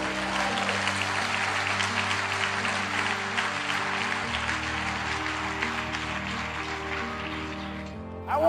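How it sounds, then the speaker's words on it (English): A live motivational seminar audience in Las Vegas bursts into sustained applause, a thick continuous roar of clapping held over steady background music tones, then ending abruptly. "Give yourselves a round of applause"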